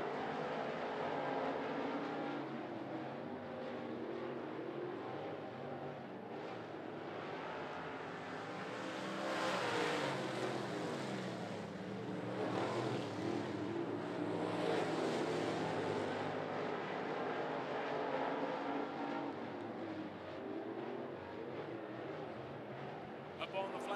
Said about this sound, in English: Getting around the K-15 is the 56 of Freddie Romines.